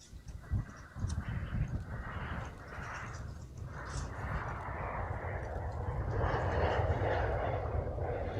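A Boeing 737 at Amsterdam Schiphol gives a loud, steady jet engine roar that builds gradually and holds for several seconds, with faint bird calls and brief voices in the background.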